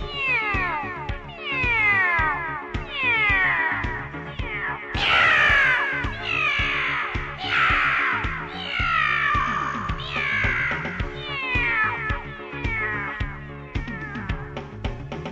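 A cat meows repeatedly in a puppet show, a string of loud, drawn-out, wailing calls following one after another with short gaps, close and clear with no talking.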